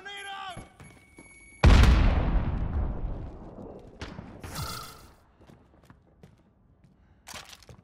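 Grenade blast in Call of Duty: Modern Warfare, one heavy near boom after a brief pause that decays into rumbling debris, with later clatter and short bursts of game noise.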